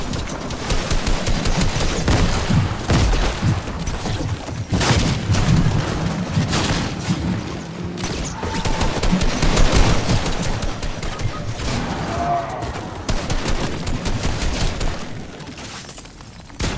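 Video game gunfire in a multiplayer shooter: repeated rapid bursts and single shots, loud and close, fired in clusters across the stretch with short gaps between volleys.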